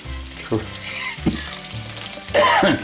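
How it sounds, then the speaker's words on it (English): Bacon and chorizo fry in a skillet with a steady sizzle, broken by three sharp stirring scrapes spaced about a second apart, the last one louder and hissing brighter as the meat is pushed around. "The bacon shoved off to the side of the skillet, and I added the chorizo and getting ready to cook it down."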